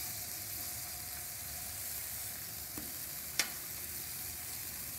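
Half-pound bacon burgers, almost an inch thick, sizzle steadily on a Blackstone griddle, a constant close hiss of frying with one or two brief clicks and taps of a spatula.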